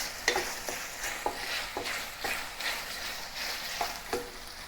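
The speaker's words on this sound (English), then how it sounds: "Heat up the sauce and then put the chicken inside and combine." Chicken is tossed in a spicy garlic sauce in a hot pan, with rhythmic spatula scrapes every half second or so over a constant close sizzle, and nobody talking.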